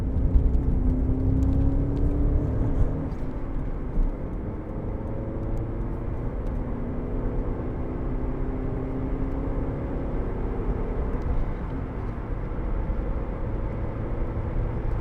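A 2003 Alfa Romeo GTV with the 2.0 Twin Spark 16v engine pulling under throttle from inside the cabin, a steady droning engine note with rising and falling harmonics and constant road roar, no talking.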